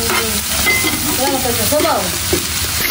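Sautéed mung bean stew sizzles steadily in a pan as a spoon stirs it, with a constant close frying hiss and soft scraping strokes through the mixture.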